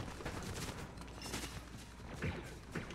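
Bursts of far-off gunfire crackle and pop in irregular volleys over a low rumbling background in Fortnite Battle Royale, with a couple of sharper shots near the end.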